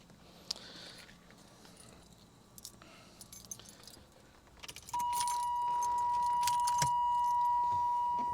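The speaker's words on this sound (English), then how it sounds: "if I actually get my keys here" Keys jangle and clink inside a 1985 Chevy Monte Carlo, faint and close, followed by a steady electronic buzzing tone once the ignition is turned.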